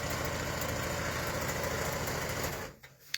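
A sewing machine stitching quilt borders runs as a steady high-pitched mechanical whir for nearly three seconds at close range, then stops abruptly, leaving near quiet and a small click.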